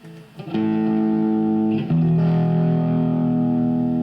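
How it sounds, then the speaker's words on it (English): A distorted electric guitar chord rings out through a Marshall AVT150H Valvestate amp, then shifts to another sustained chord that trails off with a delayed echo. No voices. "if I want to add some distortion, I got it right here. Some delay."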